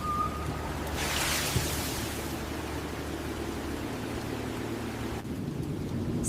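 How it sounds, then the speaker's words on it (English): Cartoon rain and thunder: a steady hiss of rain persists throughout with a low rumbling bed, a brighter whooshing swell early on, fairly soft and without speech. "It's starting to pour! Look at the sparkling rain!"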